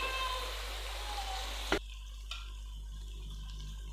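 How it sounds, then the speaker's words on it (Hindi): Chicken frying in a pot for biryani gives a steady, fairly loud sizzle for just under two seconds, then cuts abruptly to near quiet with a couple of faint clicks. "अभी इसके अंदर चिकन डाल देंगे।"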